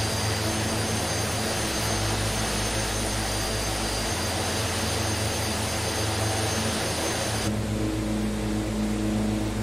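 DHC-6 Twin Otter twin turboprop engines in Microsoft Flight Simulator give a steady, loud, continuous drone in cruise flight, with a low throbbing hum and a broad rushing roar throughout, and no speech.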